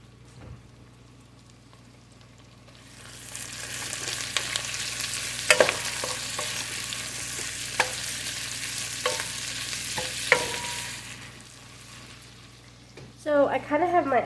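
Onions frying in a pot swell into a loud, hissing sizzle as they are stirred, with occasional scrapes and clacks against the pot, then fade before a voice begins speaking at the end.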